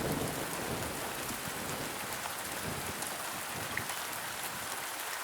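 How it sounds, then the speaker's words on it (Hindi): Steady rain pours down, a dense hiss of drops on surfaces with no voices, holding an even level throughout. "यह सोचकर चिंटू एक पेड़ के नीचे बारिश थमने का इंतजार करने लगता है।"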